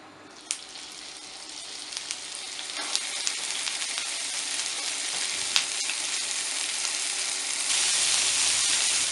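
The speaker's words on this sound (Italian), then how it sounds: "aggiungiamo il nostro rotolino facendolo rosolare per ogni lato" A chicken roll browns in a pan of hot extra-virgin olive oil, giving a steady broadband sizzle that swells slightly over the span, with a few sharp pops and crackles and no talking.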